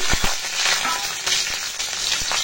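Nigella seeds and four green chilies sizzling in hot mustard oil in a pan, a close, steady crackling hiss with a few sharp pops and clacks scattered through it, no talking.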